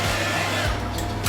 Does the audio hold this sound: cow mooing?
no